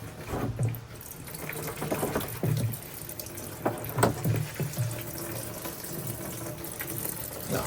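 Petrol trickles and gurgles steadily into the fuel system of a Mercedes car, a close liquid pouring and filling sound with a few soft knocks and bumps over it.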